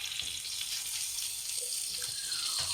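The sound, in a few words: egg frying in a pan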